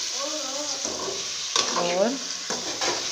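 Chopped tomatoes with turmeric, salt and chilli get stirred in a hot pan, a soft scraping and steady sizzle running under a woman's speech.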